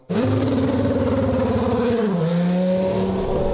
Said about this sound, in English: So Ralph takes it out for a lap, right?